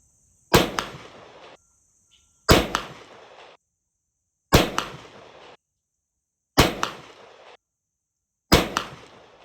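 A shotgun fires Federal Power Shok slugs in five loud, sharp blasts spaced about two seconds apart, each followed by a brief echoing decay and near silence between shots.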